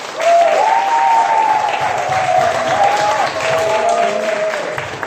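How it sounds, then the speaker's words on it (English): A comedy club audience at a short-form improv night breaks into loud, sustained applause for about five seconds, with a high whooping cheer riding over the clapping. "Let's give them a huge round of applause."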